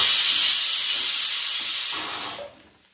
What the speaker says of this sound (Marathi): आपल्या कुकरला 1 शिट्टी झालेली आहे